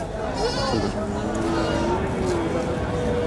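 Goats bleating at a busy livestock market, one drawn-out wavering bleat up close amid a dense crowd murmur, with people talking throughout.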